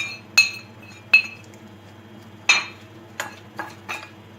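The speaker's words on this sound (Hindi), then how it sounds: "बाउल में ये सारे मसाले मिक्स करने हैं।" A spoon clinks sharply against a bowl while spices are mixed for stuffed fried green chillies: six separate bright taps, a couple spaced apart and then a quicker cluster, close by with no talking.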